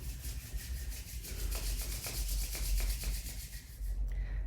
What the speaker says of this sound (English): let's rub the hands together